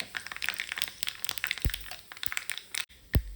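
Mustard seeds and cumin spluttering in hot coconut oil for a dal curry, heard close as a burst of sharp, irregular pops and crackles with a few louder snaps.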